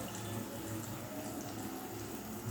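Strained spice water poured into a pan while cooking dudh potol, a continuous even splashing gush that runs steadily throughout at moderate level.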